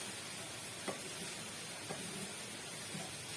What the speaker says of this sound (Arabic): يعني نقعد نشوح فيها كده لحد ما تدبل البصل